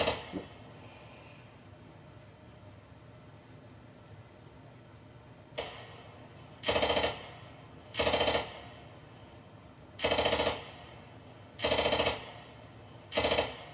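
A SAW light machine gun fires in a video game: five loud, close, sustained bursts of rapid automatic fire separated by short pauses, with no talking.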